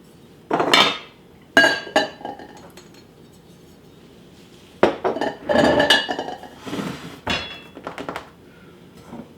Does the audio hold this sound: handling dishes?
yes